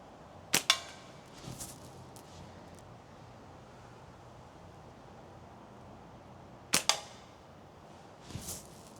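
A Seljan Stylus Revolve slingshot with very thin bands and a small pouch fires tiny steel balls at a target: two sharp snaps several seconds apart, each followed quickly by a lighter impact.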